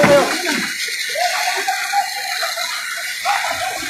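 Water gushes from a fire truck supply line at a house fire in Quezon City, a continuous rushing spray heard alone at moderate distance.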